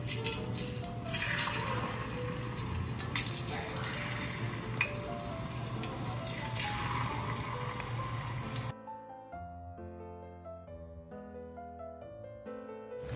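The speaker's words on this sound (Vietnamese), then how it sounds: "mình chiên với mức lửa trên trung bình nha" Banana slices frying in hot oil over medium-high heat, a dense steady sizzle that fills most of the stretch before giving way to tonal music near the end.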